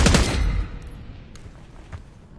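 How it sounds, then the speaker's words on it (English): Gunfire in Call of Duty: Black Ops 6 opens with a loud burst of rapid shots that cuts off quickly, followed by a couple of faint distant shots in a quieter lull. "Exchanging fire!"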